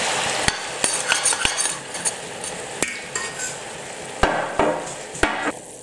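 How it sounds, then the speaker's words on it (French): Port wine poured into a hot pan of stuffed quails, bright crackling sizzle with scattered sharp clinks of a utensil against the pan. "Et là, je vais rajouter du Porto."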